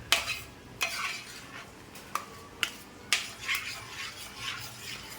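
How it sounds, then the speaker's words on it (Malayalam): Kadala payasam being stirred in a pot with a spoon, giving repeated scraping and clinking strokes against the metal at an uneven, steady pace, close and fairly quiet. "ഇനി ഇത് നന്നായിട്ടൊന്ന് ഇളക്കി കൊടുക്കാം."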